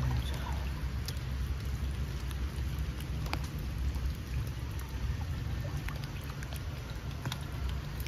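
Light rain falls outdoors at a riverside fishing spot in Nokhaleh, Gilan, a steady soft hiss with scattered small drip ticks throughout and no voices.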